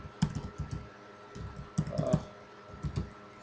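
Keys clatter on a computer keyboard as a web form is filled in: short bursts of close, quiet clicking in small irregular clusters.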